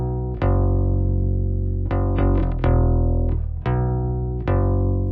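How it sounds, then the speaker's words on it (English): Clean, dry bass guitar notes recorded direct-in, played one after another, each plucked note ringing with a round, steady tone and no added effects. "if I turn this off, this is what the bass sounds like on its own."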